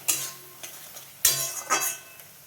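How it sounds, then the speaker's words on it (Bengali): Spice paste (masala) frying in oil in a covered pan for an egg and potato dish, heard as soft sizzling with a few stirring scrapes and lid or utensil clinks at close range, with no voices. "দেখো বন্ধুরা আমি ঢাকা দিয়ে দিয়ে মশলাটা কষিয়ে নিচ্ছি।"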